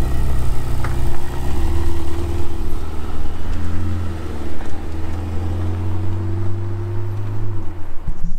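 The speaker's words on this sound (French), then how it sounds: "La Ferrari qui part en piste." A Ferrari pulls out onto a race circuit during a track day, its engine note rising and falling through several revving passes, loud and nearby, with a steady growl beneath and no talking.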